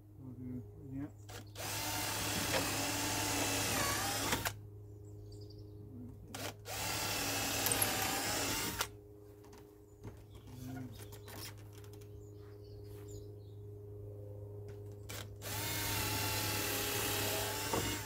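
A power drill whines in several separate bursts while boring holes, loud and close, with pauses and faint background hum between runs.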